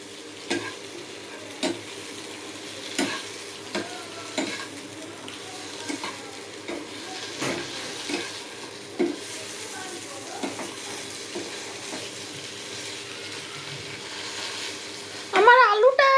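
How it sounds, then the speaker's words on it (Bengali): Breakfast food frying in a pan and being stirred, with a steady low sizzle and regular scraping strokes about every second, and a brief louder clatter near the end. "এই দেখুন কি সুন্দর লাল লাল ভাবে এগুলো ভাজা হচ্ছে।"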